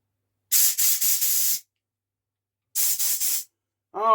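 Compressed air blown through an old Douglas engine, two loud hissing bursts, the first sputtering in short pulses, separated by silence, with a brief voice at the very end.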